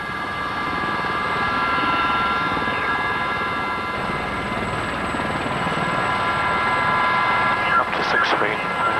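Army training helicopter lifting off into a hover, its rotor and turbine roar steady and close, with radio-style voices speaking over it.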